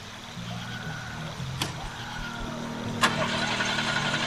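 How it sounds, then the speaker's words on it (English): A car engine turns over in a Shellshock 2 video game cutscene, with a low rumble under a steady background, two sharp clanks and a rising engine note. "Start the fucking engine."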